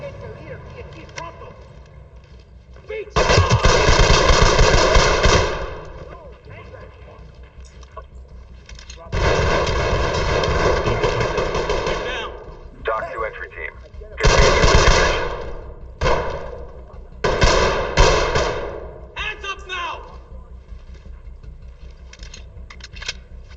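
Gunfire in the Ready Or Not tactical shooter, loud sustained bursts of automatic fire in several separate volleys, close and punchy, with quieter stretches between where players talk.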